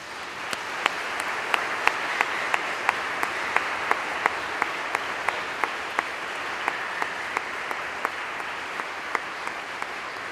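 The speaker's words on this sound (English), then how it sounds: "let's just give them one last round of applause" Sustained applause from a large crowd at a 2021 high school commencement for the graduating class, loud and even throughout with scattered sharper claps.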